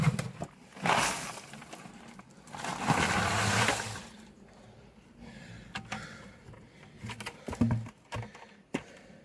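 Water from a shared mountain spring flowing steadily, with louder gushing surges early on and occasional splashes and knocks later, fairly close and without talk.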